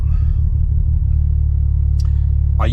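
BMW N54 engine fitted with hybrid turbos, misfiring on cylinder 6, holding a steady, uneven low rumble near the microphone with no speech over it.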